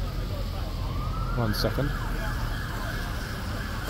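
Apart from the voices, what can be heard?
police sirens in city streets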